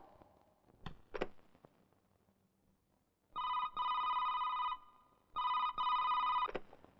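After a couple of clicks of a button being pressed, a telephone gives two loud electronic rings in a row, each about one and a half seconds long, in a quiet room.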